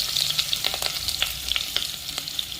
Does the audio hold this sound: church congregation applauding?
no